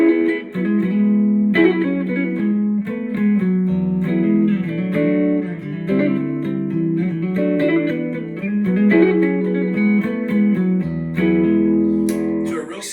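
Huss & Dalton Statesboro electric guitar played clean with the tone controls wide open, giving a jazzy tone. Sustained chords and melodic lines ring loud and close for the whole stretch, with no talking.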